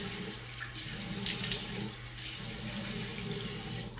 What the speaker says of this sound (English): I'm just splashing my face off.